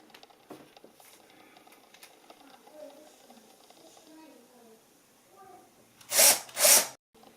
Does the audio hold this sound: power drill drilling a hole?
yes